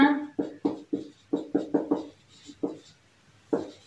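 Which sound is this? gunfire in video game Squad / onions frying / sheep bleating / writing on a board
writing on a board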